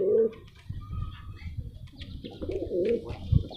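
A domestic pigeon that is about to lay eggs coos close by, with a throaty call at the start and another series of soft, rolling coos later, over faint background chirps.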